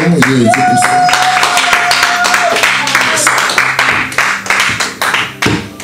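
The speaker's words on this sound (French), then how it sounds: "Acclamons, acclamons, acclamons." A church congregation claps together in dense, steady rhythm, close and loud, with sustained tonal music or singing running underneath the hand claps.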